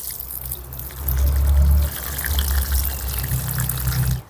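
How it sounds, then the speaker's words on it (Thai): Water is poured over a kaffir lime plant set in soil with manure at its centre, a steady close splash and trickle that swells louder partway through and carries on without any talk. "ต่อไปก็ทำการรดน้ำไปเลย"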